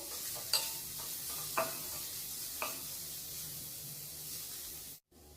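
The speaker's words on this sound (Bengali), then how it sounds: "এবার এটাকে আমি হালকা আঁচে বেশ কিছুক্ষণ ফ্রাই করব" Potatoes frying on low heat in a pan, a soft steady hiss of oil broken by a few quiet scrapes and taps of stirring before the sound cuts off.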